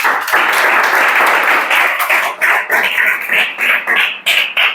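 A class of students claps loudly and close, a dense burst of hand claps that thins into uneven rhythmic patters toward the end.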